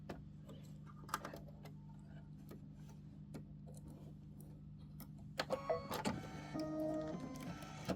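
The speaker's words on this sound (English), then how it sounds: "this is the placement stitch for the background fabric" An embroidery machine sews a placement stitch for the background fabric of an appliqué star quilt, starting with a low steady hum and sparse ticks, then breaking into rapid mechanical clatter near the end.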